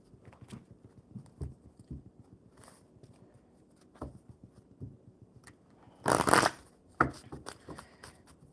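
Mermaid oracle cards are shuffled by hand, producing soft, close riffling and tapping in irregular bursts, with one louder, sustained flurry of shuffling near the end.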